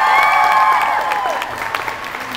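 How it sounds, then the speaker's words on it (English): Audience applause for the authors of a supernatural suspense panel, a steady dense wash of clapping from a crowd, fading gradually over a couple of seconds, with some tonal ringing or feedback sweeping across the start. "Can I have a round of applause for all of these authors?"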